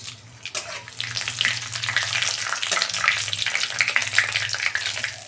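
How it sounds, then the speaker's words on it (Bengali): Whole spices, bay leaves, cloves, cinnamon, mace and cumin, sizzle in hot oil for a chicken curry, a sudden burst of loud crackling that keeps up as an uneven, spattering hiss close at hand. "দু মিনিট আমি ফোড়নটা ভেজে নেব।"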